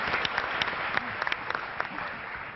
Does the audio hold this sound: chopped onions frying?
no